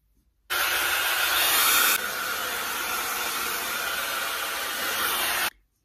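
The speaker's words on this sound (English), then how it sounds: "So I am going to blow dry." A hair dryer blows on hair, a loud steady rushing whoosh that starts abruptly, shifts slightly in tone partway through, and cuts off cleanly after about five seconds.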